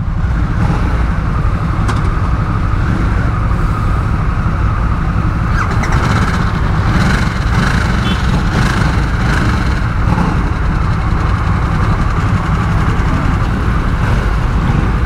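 A 2022 Harley-Davidson Nightster 975 being ridden: a loud, steady engine drone mixed with heavy wind rush that holds for the whole stretch, with slight swells as the throttle changes.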